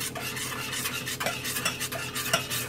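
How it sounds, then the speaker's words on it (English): Tomato sauce is stirred in a pan on the stove while it thickens into a roux, giving steady scraping and swishing strokes with a light sizzle underneath and a few sharper utensil taps against the pan. "we'll stir that up real good, and we want it to thicken up"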